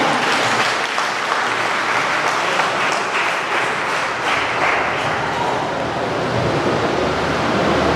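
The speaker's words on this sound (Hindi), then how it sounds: "एक बार हमारे मुख्य अतिथियों के लिए जोरदार तालियां हो जाए।" Dense, steady applause from a seminar audience fills the whole stretch, a continuous wash of clapping with no voices on top.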